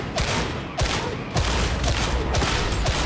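Powerful automatic weapon fire from a hard-recoiling gun in Warhammer 40K Darktide, several close, loud bursts one after another with short gaps between.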